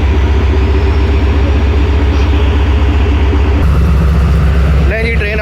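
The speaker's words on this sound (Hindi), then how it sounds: "नहीं जी, ट्रेन हमारी मूव हो रही है।" The Karakoram Express rolls out of Faisalabad station with a loud, continuous engine drone that shifts in tone partway through, and brief tonal sounds near the end.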